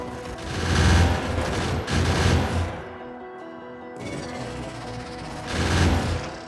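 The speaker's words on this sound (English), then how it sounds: "Just look how fast the gun turrets can take down behemoth biters now." Gun turrets in Factorio firing at behemoth biters, with bursts of rapid mechanical automatic fire that swell and fade over several seconds, pausing briefly in the middle before resuming loud and close.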